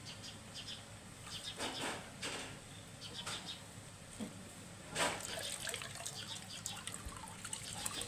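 Mung lentils are washed with water, giving faint, soft splashes and swishes in irregular bursts, a quiet, close sound with a few murmurs of background talk.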